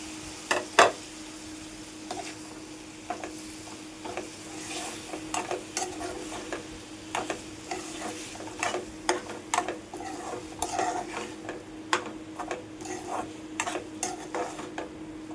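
Prawns go into a fried onion and tomato masala and are stirred, giving a continuous sizzle under repeated, uneven scrapes and taps of a spatula on the pan.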